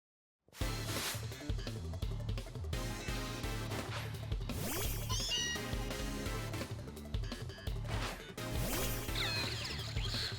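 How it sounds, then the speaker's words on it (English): Cat-like cry of Meowstic in Pokémon Legends Z-A, short bright meowing calls mixed into busy game music and effects, repeated several times at moderate loudness. "They have such a cute cry as well. Meow."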